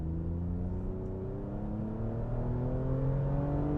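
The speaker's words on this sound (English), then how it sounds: "I was hoping you could hear the exhaust note" A 2021 Toyota Camry TRD's exhaust drones steadily while driving, its low engine note climbing gradually as the car accelerates, with no talking.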